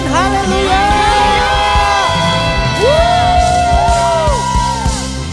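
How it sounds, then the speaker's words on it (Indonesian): A church congregation at a live worship service shouts hallelujah together, a loud mass of overlapping voices with rising and falling yells and whoops spread over several seconds. "Yang siap memuji Tuhan, sorakan haleluya."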